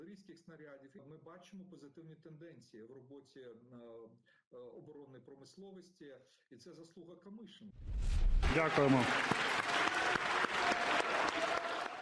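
In the Ukrainian parliament, a voice speaks for several seconds, then a loud burst of applause from many people in the chamber breaks out and continues steadily to the end.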